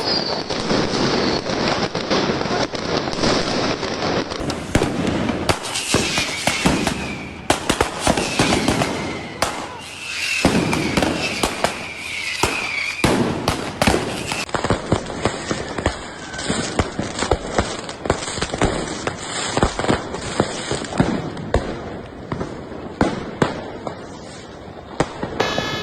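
New Year's Eve fireworks and firecrackers in Germany, a dense, continuous barrage of loud cracks and booms going off near and far for nearly half a minute, with crackling bursts layered over one another.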